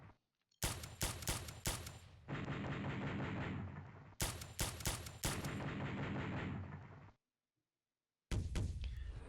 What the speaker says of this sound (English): he's going to lay down some heavy fire on that squad